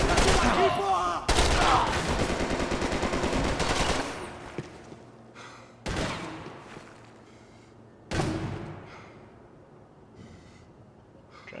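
Gunfire in the third-person shooter Max Payne 3: a long rattling burst of automatic fire, then several separate loud single shots and short bursts, each ringing out and fading into quiet.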